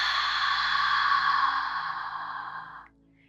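A single long, breathy 'ha' exhale through an open mouth, as when fogging eyeglasses to clean them, in ujjayi yoga breathing. It is close and steady for nearly three seconds, then fades out.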